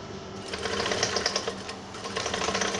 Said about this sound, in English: Make sure you give a straight line sewing.